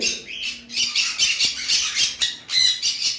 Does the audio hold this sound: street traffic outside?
no